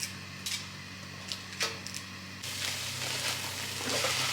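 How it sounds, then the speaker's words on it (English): Low sizzling with a few small ticks and clinks, swelling into a louder, denser hiss partway through, like onions frying in a pan. "I'm frying off some onion in here"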